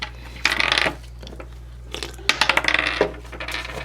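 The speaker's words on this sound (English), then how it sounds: "Oh, you gotta roll the dice." Dice rolled during a Hobbit Tales tabletop game: two bursts of rattling, clicking tumbles, the second longer with several quick knocks as the dice settle, heard close over a steady low hum, with no talking.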